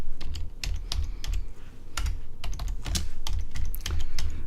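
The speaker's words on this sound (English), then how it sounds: "I'm typing over my cup of coffee and also the microphone" Rapid typing on a computer keyboard, close to the microphone, with irregular bursts of crisp key clicks and heavier thumps from the spacebar, steady through the whole stretch with no talking.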